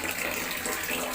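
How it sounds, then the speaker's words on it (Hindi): A fresh-water tap runs in a bathroom, giving a steady, continuous rushing stream at moderate volume with no pauses and no voices. "उधर ताजे पानी की टोटी चल रही थी, उसको बंद करने आई हूँ बाथरूम में।"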